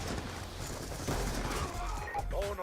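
Sniper rifle shots from the video game Call of Duty Black Ops 2 crack out amid continuous dense gunfire and game noise, with several sharper reports toward the end of the short burst.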